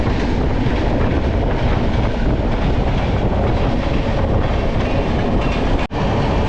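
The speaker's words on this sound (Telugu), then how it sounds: "అటు సైడ్ అయితే ఒక ట్రైన్ వెళ్తుంది" Another train rushes past on the neighbouring track as a loud, unbroken roar with a rattling clatter that fills the whole stretch, dipping only briefly near the end, with no voices.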